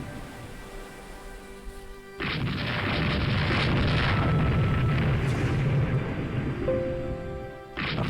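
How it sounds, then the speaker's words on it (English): Torpedo hits explode on ships in the naval strategy game Rule the Waves 2, a loud sustained rumbling blast that swells suddenly and holds for several seconds before cutting off, with no talk. "We have landed a lot of torpedo hits."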